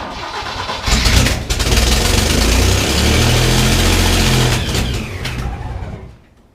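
A 1973 Jeep CJ-5 engine after a partial rebuild cranks and catches, then runs roughly at close range for several seconds, loud and rumbling, before dying away.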